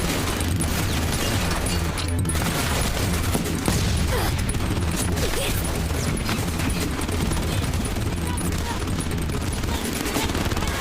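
Dense, continuous gunfire and bursts of automatic fire from the military shooter Frontlines: Fuel of War roar steadily through the whole stretch, loud and close, with occasional booms and faint shouted voices mixed underneath.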